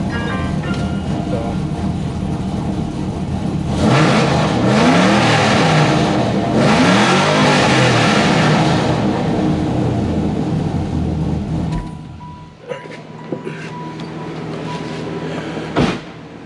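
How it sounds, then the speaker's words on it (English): A 1995 Impala with an LSX engine and a belt-slipping problem revs hard, building to a loud sustained roar, then drops back to a rough idle with a few sharp knocks. "Let's see if it squeals when you hit it, give it some gas."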